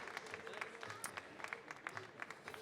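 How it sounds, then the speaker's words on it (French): Applause at an award ceremony for a World Cup Tasters competition in France, a room of people clapping with scattered distinct claps, quiet and distant throughout. "Un tonnerre d'applaudissements, s'il vous plaît."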